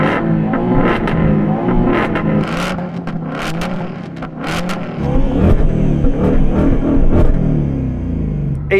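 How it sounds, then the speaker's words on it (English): Loud, close engines of a new Mustang V8 and a BMW M2 revving hard and overlapping, rising and falling roars with sharp throttle blips throughout. "rev your car while I'm revving mine"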